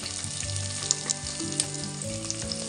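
Potatoes, capsicum and onion frying in a pan for mixed veg pulao, a steady close sizzle with occasional soft stirring clicks and no voices.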